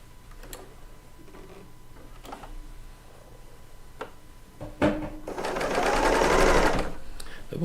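A serger sewing machine stitches quilt pieces, running in a close, steady, whirring burst after a few quiet clicks and taps as fabric is handled.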